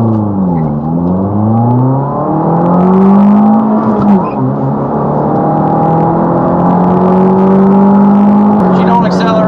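A Mini Cooper R56 with its 1.6 liter engine, intake silencer removed and muffler deleted, revs and accelerates through rising and falling pitch sweeps, loud and close from inside the car.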